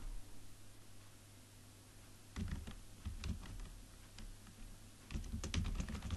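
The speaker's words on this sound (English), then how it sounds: "In the search bar, type" Typing on a computer keyboard: short bursts of quiet clicking keystrokes separated by a pause, close by over a low steady hum.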